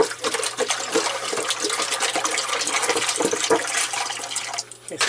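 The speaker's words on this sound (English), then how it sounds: "here comes fresh water. This is our rainwater I've collected" Collected rainwater pours steadily into a boat's freshwater supply, a continuous splashing gush that falls off briefly near the end.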